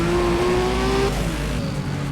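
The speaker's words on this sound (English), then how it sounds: "I don't know if it's the actual sound of the Skyline, but it sounds awesome." A Nissan Skyline in Need for Speed ProStreet, stock turbo, revving hard with a loud sustained engine whine that rises and then drops away, close and alone without talk.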